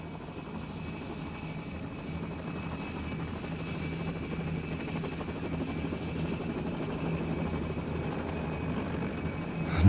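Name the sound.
autogyro rotor in flight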